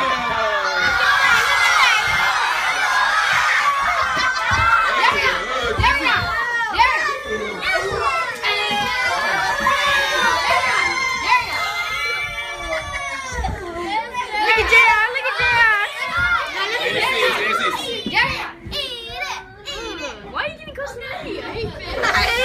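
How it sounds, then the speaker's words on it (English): A crowd of excited children shouts, squeals and chatters over each other in a loud, continuous jumble of voices with laughter and cheering bursts. "Get some of the crowd reactions, Darian."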